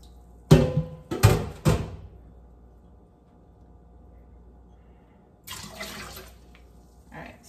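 Water poured into a measuring cup while preparing sea moss, three short close splashing bursts in quick succession, then a quiet pause and a softer, longer pour near the end, with no talk.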